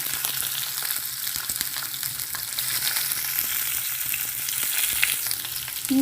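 Halved garlic and chillies fry in hot oil for a ladies' finger and potato fry, a dense, even crackling sizzle held close throughout with faint clicks of the utensil and no voices.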